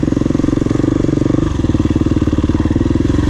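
A KTM 350 EXC-F dirt bike rides a muddy trail loop at NATRA in West Point, Tennessee, its loud, close single-cylinder engine thumping in a fast, steady rhythm throughout.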